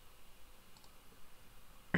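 A single short computer mouse click lands at the very end, after near silence, while clicking Next in a Windows Server 2008 R2 DHCP setup wizard.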